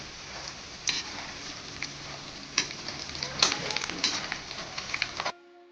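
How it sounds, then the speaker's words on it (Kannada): Chana dal, urad dal and peanuts fry in a pan for avalakki uppittu, giving a close, crackling sizzle with sharp pops and stirring scrapes that stops abruptly near the end. "ಸ್ವಲ್ಪ ಕಡಲೆಬೇಳೆ ಉದ್ದಿನಬೇಳೆ ಆಮೇಲೆ ಕಡಲೆ ಬೀಜ ಇದೆ ಇದನ್ನ ಹಾಕೊಳ್ಳಿ ಇದನ್ನು ಸ್ವಲ್ಪ ಫ್ರೈ ಮಾಡ್ಕೋಬೇಕು"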